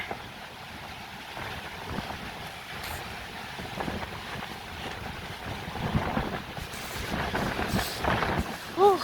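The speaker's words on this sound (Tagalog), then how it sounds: "Lakas ng hangin." Strong wind buffets the microphone over the rumble and wash of heavy surf from big waves at sea, with gusts building louder toward the end and a voice briefly heard.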